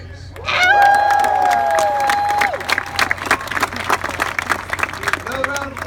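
A crowd at an outdoor military sports event applauds and cheers, the dense clapping rising in bursts and then thinning out, over a sustained tone and a speaking voice.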